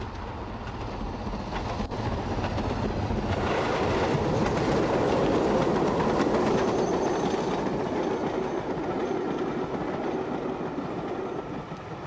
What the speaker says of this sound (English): Now a view from the next overbridge, this time with a Nottingham-bound train.